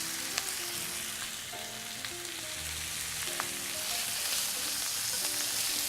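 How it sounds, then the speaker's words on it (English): Andouille sausage browns in a cast iron skillet, giving a steady close sizzle and crackle with occasional sharp pops and light scraping. "So the andouille is browning in the cast iron skillet."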